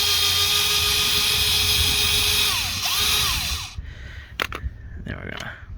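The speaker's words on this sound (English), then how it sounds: "Got my electric drill, which will make things a little bit easier." An electric drill backs out a Phillips screw, its steady whining motor running loud and close for several seconds before cutting off, followed by a few brief clicks and handling noises.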